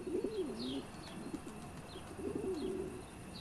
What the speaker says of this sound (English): A pigeon has built a nest.